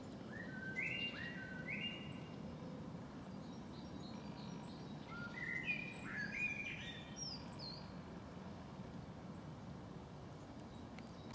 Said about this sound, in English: Blackbirds singing in the background.